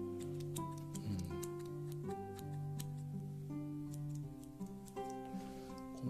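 A pliers-style multi-tool's folding scissors snip open and shut, giving several sharp, close metallic clicks over steady background music.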